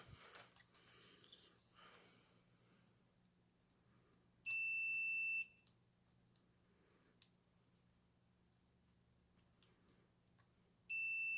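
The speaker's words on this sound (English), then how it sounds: "I should test the continuity on that" A multimeter sounds two short, clear continuity beeps, one mid-clip and one at the end, over faint room hiss and light handling noise while testing a jumper on a BITX40 radio board rebuild.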